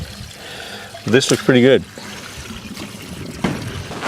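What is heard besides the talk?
flush water draining from a Toyota Troopy engine block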